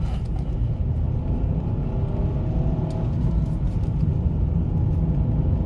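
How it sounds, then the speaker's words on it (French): A 2023 Dacia Sandero with a 65 hp petrol engine accelerates up to an 80 km/h limit after leaving town, its steady engine rumble and road noise heard from inside the car, constant and fairly loud without talk. "on va pouvoir faire une petite accélération jusqu'à atteindre 80, la limitation de vitesse"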